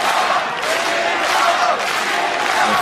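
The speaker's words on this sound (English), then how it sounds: "The fans are absolutely cheering" Spectators at an MMA fight cheer and roar without letup, a dense, loud crowd sound filling the arena.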